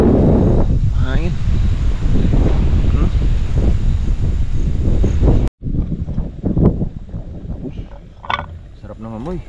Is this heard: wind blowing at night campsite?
yes